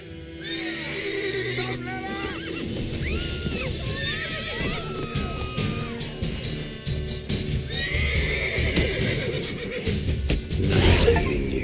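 A horse neighs and whinnies repeatedly in The Witcher 3 over clip-clopping hooves, with game characters talking throughout and a louder rustling burst near the end.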